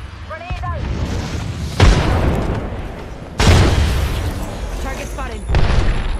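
Grenade blasts in Apex Legends land as three heavy booms spaced a second or two apart, each sharp onset trailing off, among other game sound effects.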